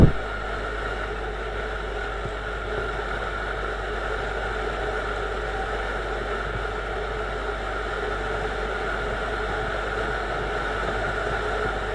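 Engine of a Viper 150 motorcycle running steadily at speed on a village road, a constant close buzzing drone with no clear rise in pitch and no talk.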